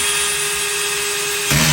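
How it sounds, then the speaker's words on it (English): A cordless drill driving a screw whirs steadily at high speed, then its clutch slips as it limits torque, giving a brief rougher ratcheting burst at the end; close and loud with no talk. "that's the drill limiting itself for how much torque it gives"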